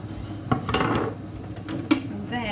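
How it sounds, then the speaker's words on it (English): Bread cubes tipped into an oiled pan for croutons, with wooden spatulas at hand, give a few soft clattering knocks and light scraping against the pan, close and moderately loud, with two sharper impacts. "I'm going to put my bread into the pan. I've cut up into little cubes."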